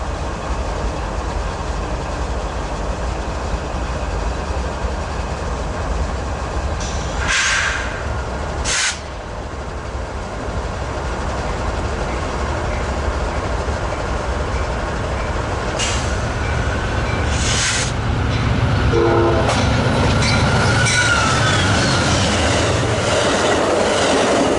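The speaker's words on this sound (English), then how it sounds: "here goes train 4, eastbound to Chicago with 189 and 55" Amtrak train 4 passing eastbound toward Chicago at Commerce, a loud continuous rumble and clatter of rail cars close by, with brief sharper bursts and squeals partway through; no clear horn stands out.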